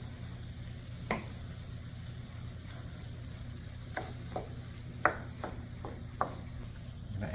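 Browned ground beef being folded and mixed in a hot pan, a steady low sizzle with occasional scraping and tapping strokes of a utensil every second or so, close and moderately quiet.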